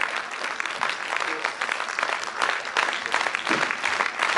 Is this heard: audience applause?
yes